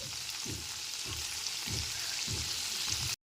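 Thinly sliced onion for a prawn and potato dopiaza fries in a pan over low-to-medium flame, making a steady bright sizzle with soft rhythmic stirring thumps about every half second. The sound is moderate and there is no talking.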